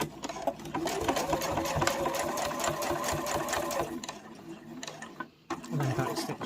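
A sewing machine back-stitches over a seam on a small fabric boxed pouch, running in a steady close mechanical whir for several seconds before briefly stopping and starting again.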